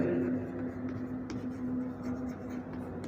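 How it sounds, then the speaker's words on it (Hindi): Marker or chalk writing on a board during a physics lecture, a steady scratchy stroking close by under a low constant hum, with no talking. "हम यहाँ लिखेंगे"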